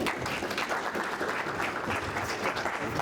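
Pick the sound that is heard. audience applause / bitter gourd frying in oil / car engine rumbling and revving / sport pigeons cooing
audience applause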